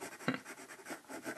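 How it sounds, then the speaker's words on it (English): A watercolor pencil scratches across textured paper in soft, close, raspy strokes, with one sharper scrape near the start, all quiet and without talk. "This paper sounds so funny with the texture."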